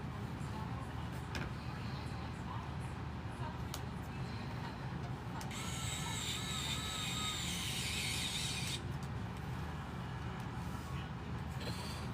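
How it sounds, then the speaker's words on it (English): A small power screwdriver whirs in short bursts while Injora 1.3 RC wheels and pin tires are assembled, with one longer higher-pitched run near the middle over a constant background hum. "Thank God for this little screwdriver"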